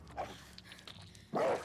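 A dog barks and yips in The Last of Us video game, a short sharp bark at the end after quieter game sounds, moderately loud and alone without talk.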